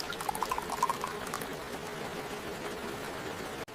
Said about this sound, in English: now I'm pouring the tomato soup into my bowl